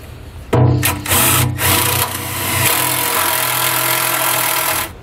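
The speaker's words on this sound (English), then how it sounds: "drill into this panel here" A power drill whirs loudly into a panel on a 2020 Jayco Pinnacle fifth-wheel trailer, starting abruptly and running steadily with slight changes in pitch before cutting off near the end.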